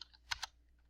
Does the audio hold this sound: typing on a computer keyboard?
yes